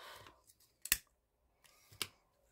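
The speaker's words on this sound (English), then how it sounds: "Cut that little extra bit off." Scissors snip ribbon while making a twisted duo hair bow, giving two sharp, close cuts separated by a quiet pause, with a little faint handling noise at the start.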